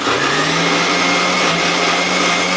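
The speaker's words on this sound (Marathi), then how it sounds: "मिक्सरमध्ये वाटून घेऊया" A mixer grinder whirs loud and close, grinding boiled black peas with a constant high-pitched motor drone and rough churning, and no pauses.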